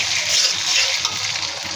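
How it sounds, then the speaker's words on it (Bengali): Ginger-garlic paste frying in a pan over fried onions, a steady close sizzle that holds evenly throughout with no talk. "আদা রসুনটা ভেজে নিব।"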